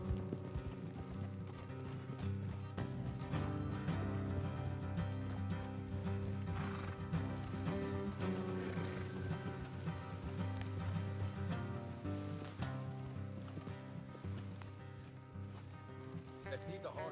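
Horses trotting in Red Dead Redemption 2, rhythmic clip-clop hooves with an occasional whinny, heard over game music and riders talking.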